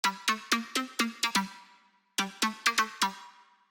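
Plucky synth lead layer from an electronic production: two quick runs of short, punchy plucked notes that decay fast, separated by a brief pause, clean and alone.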